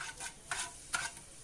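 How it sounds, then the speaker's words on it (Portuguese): Margarine melting in a pan for garlic toast, quiet sizzling broken by several soft scraping stirs at irregular intervals. "O pai tá ali derretendo a margarina."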